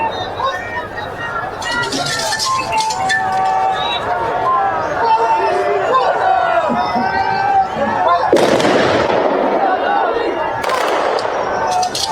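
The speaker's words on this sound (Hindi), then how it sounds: "ये फायरिंग करके अंतिम सलामी दी जाती है फोर्सेस की तरफ से" Security forces fire a ceremonial gun salute at a state funeral at Vidya Pratishthan, with two sharp, loud volleys cracking out over a dense background of crowd noise and voices.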